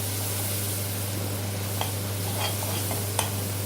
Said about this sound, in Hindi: इसे 1 मिनट के लिए भूनेंगे इस मसाले को हम।